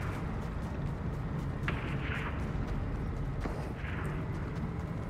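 Gunfire in the Fortnite video game, a few sharp shots cracking out of a low, rumbling background, with distinct reports around the middle of the stretch.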